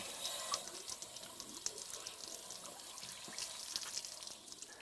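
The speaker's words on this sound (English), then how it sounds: "rinse the inside of the tank thoroughly by inserting the wand in the drain port" A spray wand pushed into the drain port of a Suburban RV water heater sprays water into the tank, producing a faint, steady hiss with light splashing and dripping and occasional small clinks.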